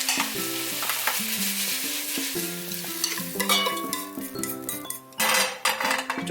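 Vegetables for japchae stir-frying in a hot pan, seasoned with salt and pepper, giving a steady close sizzle broken by frequent scrapes and clinks of a utensil against the pan.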